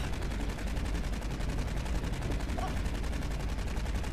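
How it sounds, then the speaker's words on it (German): Rapid automatic gunfire in the video game Aliens: Colonial Marines, a dense unbroken stream of shots at steady volume throughout. "Die werden die ganze Zeit da angeschossen, die Idioten."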